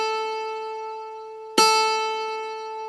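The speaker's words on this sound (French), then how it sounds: "Et maintenant une guitare." A single sustained guitar note rings with clear harmonics and slowly decays, then a second pluck strikes sharply midway and rings on, the same pitch played again, alone with no talk.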